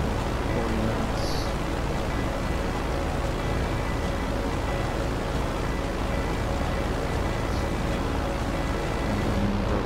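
Aircraft engine throttling up for takeoff in GTA Online, a steady, loud droning roar that holds at an even level throughout with no talk over it.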